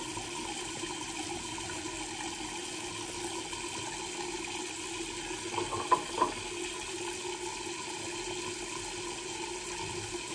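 Water runs steadily from a tap during shaving, a constant faint hiss throughout with a couple of brief clinks near the middle.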